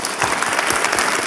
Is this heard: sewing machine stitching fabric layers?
no